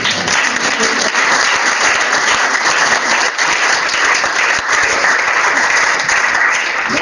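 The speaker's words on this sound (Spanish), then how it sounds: "Un aplauso para él." A lecture audience on anxiety applauds steadily, dense crowd clapping filling the room continuously for several seconds, loud and without pause.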